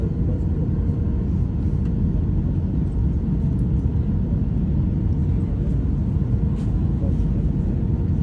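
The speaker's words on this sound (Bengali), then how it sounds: "আমাদের বিমানটা এটা ল্যান্ডিং করার জন্য প্রস্তুতি নিচ্ছে" An airliner preparing to land at the beachside airport in the Maldives, heard from inside the cabin as a steady, loud low engine drone and rumble without a break.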